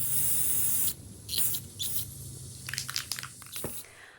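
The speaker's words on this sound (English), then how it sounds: "I'm going to just go ahead and spray this with some Clear Matte by Rust-Oleum" Rust-Oleum Clear Matte sealer hisses from an aerosol spray can in a long steady burst, followed by several shorter close bursts and light handling noises.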